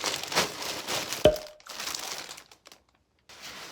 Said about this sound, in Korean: 마지막 겁나 큰 비닐